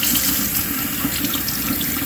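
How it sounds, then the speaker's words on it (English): Water from cleaning bluegill fish is poured out in a steady, continuous rush, loud and close, like a running faucet into a sink, with no voices. "So I'm gonna dump out all that water."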